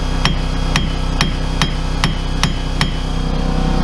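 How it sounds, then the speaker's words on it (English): Seven sharp metallic hammer strikes on a wheel bearing of a Chevy Malibu land at a steady, even pace, ringing briefly over a constant mechanical hum in the background. "You want to get a quick hit with the hammer."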